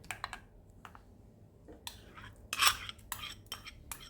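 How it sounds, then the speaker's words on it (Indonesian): A spatula stirs pempek dough of fish mixed with cooled starter paste, giving irregular scraping clicks and short knocks against the bowl, close and fairly faint, with quiet gaps between strokes. "Kemudian kita aduk sampai tercampur dengan rata."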